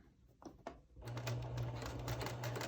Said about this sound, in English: I usually just hold it together, line them up, and sew my 1/4 inch seam.